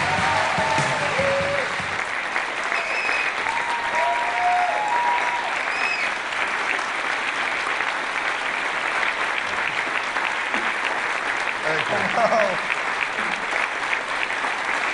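A large audience bursts into sustained, steady applause as William Shatner walks out on stage, dense clapping that holds at full strength throughout with a few faint voices underneath.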